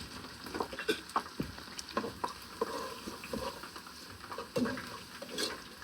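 Peppers and onions fry in a pan for jambalaya, a close, crackling sizzle with scattered stirring pops and scrapes throughout, with no voices heard.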